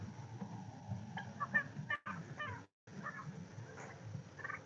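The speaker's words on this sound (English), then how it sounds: "you can see you can hear them make their turkey noises" Turkeys inside a chicken tractor give soft, close chirps, peeps and clucking calls in scattered short bursts over a low outdoor rumble.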